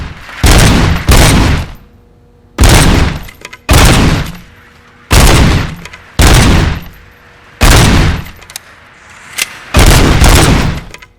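Loud gunfire in a RoboCop: Rogue City shooting gallery: seven close, powerful bursts of rapid shots with short silent pauses between them.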